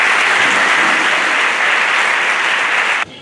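Loud, thick, continuous applause from a large audience at an official ceremony with education officials present. It holds steady for about three seconds and then cuts off abruptly.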